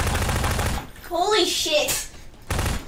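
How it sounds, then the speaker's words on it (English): Rapid gunfire in a Prop Hunt video game match as a guard keeps shooting at a hidden player: dense, loud bursts open and close the moment, with an excited shouted exclamation in between. "the guard's been shooting her for almost a minute now"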